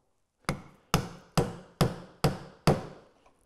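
Six sharp, evenly spaced mallet strikes on a quarter-inch bevel edge chisel chopping a mortise in wood for a door, each a crisp close knock with a short decay, followed by a faint final tap.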